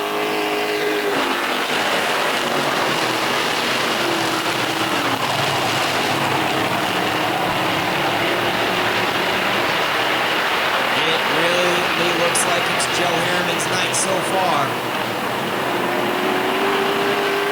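Race cars lap a track during an evening race, with a continuous near engine roar that swells and fades as cars pass, under a commentator who keeps talking.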